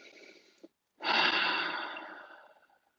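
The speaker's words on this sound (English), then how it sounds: "Take a deep breath, everyone." A single deep breath taken during a guided spiritual talk: a short soft sound, a pause, then a long, close, airy exhale that fades out gradually.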